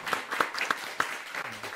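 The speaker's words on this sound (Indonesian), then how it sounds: "Keren banget, tepuk tangan." Crowd applause at an outdoor community gathering, a few sharp claps standing out over a steady, moderately loud patter, with no talking over it.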